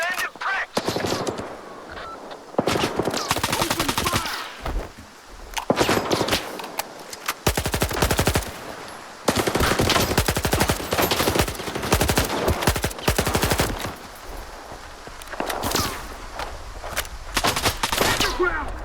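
Bursts of automatic gunfire and single shots rip through a firefight with bandits in Stalker 2, loud, close and in clustered volleys separated by short lulls.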